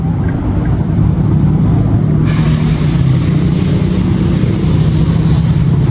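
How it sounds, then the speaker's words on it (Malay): Yamaha TMax 560 V3 scooter engine idling while warming up, a close, steady low rumble that continues unbroken throughout without talk. "nak panas enjin Yamaha T-Max TechMax 560 V3 daripada Yamaha ni"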